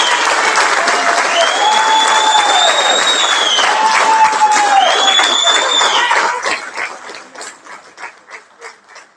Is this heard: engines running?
no